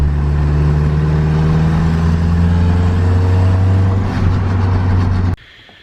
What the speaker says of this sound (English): the ball bearing turbo spins on idle, so that's a good start